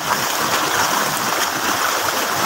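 Floodwater rushes through a street in Spain after only light rain, a steady broadband wash of flowing water with a constant roar and no break across the short span.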